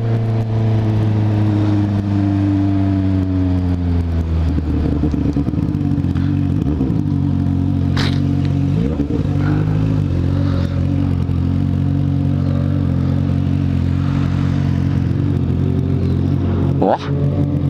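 A blue Ferrari drives past, its engine a steady, fairly loud drone with shifting tones and a few brief rises in pitch over background traffic.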